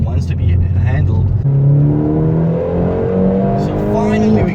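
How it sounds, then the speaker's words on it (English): A Vauxhall Corsa OPC engine driven hard through bends, its note rising steadily as it revs up through the gears, loud and close as heard from inside the car. "So finally we get to open up this car a little bit and push it through the bends"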